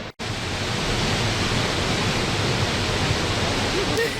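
Kaieteur Falls in Guyana gives off a steady, dense roar of falling water, loud and unbroken after a brief cut at the start, with a faint bird chirp near the end.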